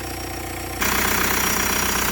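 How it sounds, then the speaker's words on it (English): A swapped TDI diesel engine idling in a car, a steady low rumble that steps up to a louder, fuller roar partway through and then holds a constant tone. "So it's been idling for a while."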